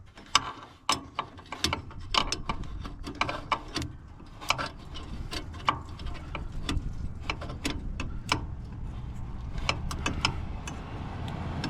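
A hand wrench works a bolt on a 1973 International Harvester Travelall, giving repeated sharp metallic clicks and ratcheting ticks at irregular intervals, close and fairly quiet, with low mechanical rumble underneath.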